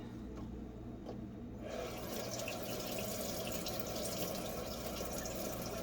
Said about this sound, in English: And I'll just rinse it off.